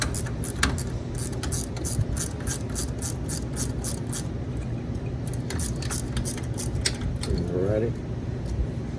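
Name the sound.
wrench loosening bottom caliper bolt on Polaris Ranger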